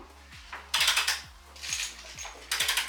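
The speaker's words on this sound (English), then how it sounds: "They all get torqued to 30 foot-pounds." Ratcheting torque wrench tightening the bolts of an RTR tire carrier on a 2023 Ford Bronco, a rhythmic series of quick mechanical clicks in bursts of several strokes, with a steady low hum underneath.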